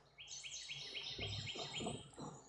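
Birds chirp outdoors in a quick series of high, bright tweets, faint and somewhat distant, with low rustling and muffled thumps underneath.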